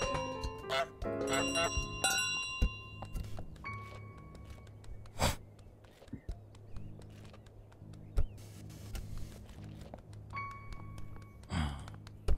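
A bell rings several times in Untitled Goose Game, bright metallic dings scattered over a quiet game scene with soft ambient tones and sporadic small clicks.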